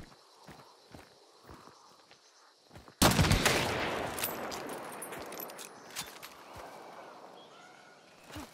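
A Martini rifle fired in a video game: one sudden loud crack after a few soft footsteps, followed by a long ringing decay with scattered small clatters, no talking.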